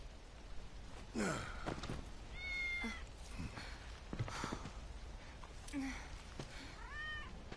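In Final Fantasy VII Remake, a cat meows several short times, soft and close, over quiet in-game ambience with faint background sounds.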